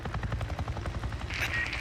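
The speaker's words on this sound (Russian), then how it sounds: "Опять следить за вертолетом" A helicopter in the game Days Gone makes a steady rhythmic rotor chop at moderate distance, with a brief brighter mechanical whine rising near the end and no talk over it.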